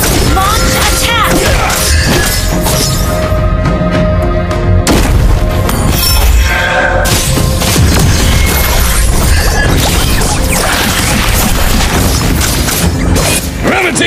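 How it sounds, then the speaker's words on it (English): A turret collapses in Mobile Legends: Bang Bang with loud booming crashes and shattering impacts over dense game music and effects, while game voices call out. "Our turret has been destroyed!"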